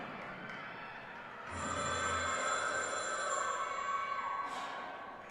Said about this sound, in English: So that's Abby's little signature, that phone call.